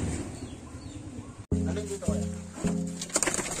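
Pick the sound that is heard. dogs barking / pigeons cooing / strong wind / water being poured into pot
pigeons cooing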